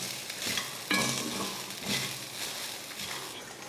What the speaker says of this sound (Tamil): சாதம் போட்டு கிளறப்போ கூட அடுப்பை வந்து சிம்மில் வச்சுட்டே கிளறுங்க